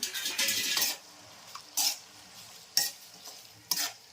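A spoon stirs a spinach (palak) curry in a pan, with a scraping burst and then several short, separate stirring strokes, close and fairly quiet with a faint sizzle.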